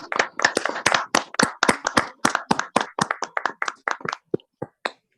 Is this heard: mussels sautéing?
no